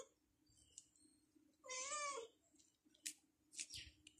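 A cat meows indoors, one clear drawn-out call near the middle followed by a couple of shorter, fainter cries, with light household noise around it.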